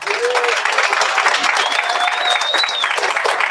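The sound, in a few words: audience applause for speaker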